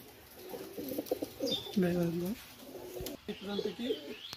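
Pakistani highfly pigeons coo in repeated throaty, rolling phrases, close and fairly loud, with overlapping calls from more than one bird and brief soft chirps in the background.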